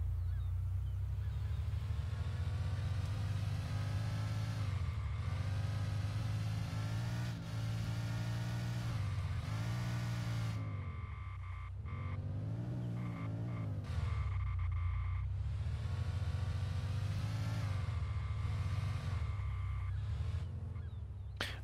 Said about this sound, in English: we're gonna see if we can actually drift this vehicle.